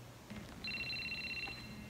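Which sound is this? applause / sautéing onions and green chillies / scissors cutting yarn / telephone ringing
telephone ringing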